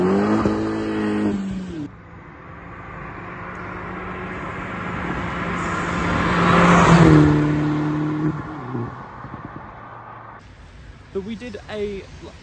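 A Vauxhall Corsa VXR with a new exhaust passes by, its engine rising to a loud roar at the nearest point and fading away, with people talking before and after.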